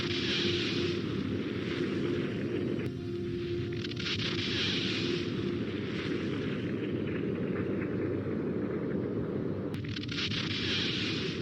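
A powerful nuclear bomb explosion roars as a loud, continuous rumbling blast, with a dense low-end roar that holds steady throughout and swells of hissing debris noise rising and falling over it.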